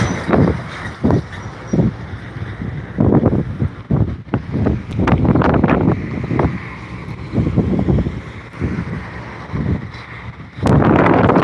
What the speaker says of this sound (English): I hope the wind doesn't ruin my talking. It's very windy.